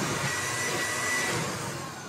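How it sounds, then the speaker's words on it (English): A SnapFresh cordless 2-in-1 handheld vacuum/sweeper with its bag fitted runs in vacuum mode, giving a steady, close, airy whoosh with a faint whine, unbroken and alone for the whole stretch. "So you put on the bag and suddenly you're able to vacuum things up."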